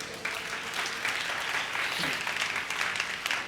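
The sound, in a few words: congregation clapping hands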